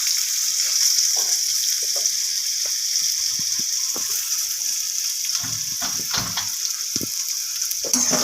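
Mustard seeds, cumin and onion fry in a pan for a creamy pea bhaji, with a loud, continuous close sizzle punctuated by occasional pops and stirring clatter.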